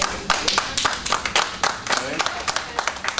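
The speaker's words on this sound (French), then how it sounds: "Les enfants, vous allez applaudir ces 2 personnes-là qui ont contribué." A group of children claps steadily at a French heritage day gathering, with sharp, close, fairly loud handclaps repeating in quick, uneven bursts for a few seconds.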